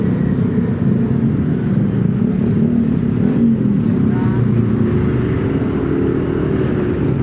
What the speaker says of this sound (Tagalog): Nakakatakot yung mga nakamotor. Pagsiksikan.